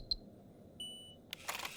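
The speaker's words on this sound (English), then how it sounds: "With an electronic beep, the sound of a lock releasing came from the locker." Electronic beep from a card-scanner locker in the Chaos;Head Noah video game, two short clear tones followed by a brief mechanical clack of the lock releasing, quiet setting.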